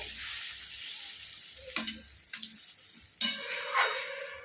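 Hilsa curry being stirred in a pan after spice-rinsing water is added, a steady sizzling hiss with a few sharper scrapes and splashes of the spoon, close and alone with no talk.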